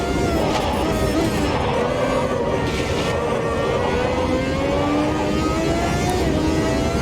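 A race car in the Automobilista 2 video game accelerates hard out of second gear, its engine droning loud and steady with rising pitch for several seconds, alone without talk.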